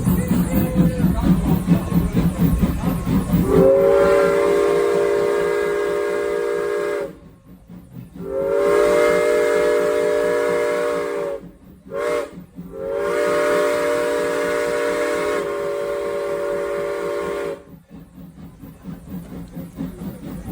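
Steam locomotive No. 475, originally built for the Norfolk and Western Railroad, sounds its whistle on the Strasburg Railroad in three loud, sustained blasts separated by short breaks, with steady hiss and rumble from the engine throughout.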